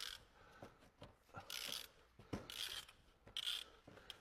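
An old ratchet wrench is worked in short strokes, giving quiet clicking bursts of pawl ratcheting separated by brief pauses and light taps, close and faint with no voices.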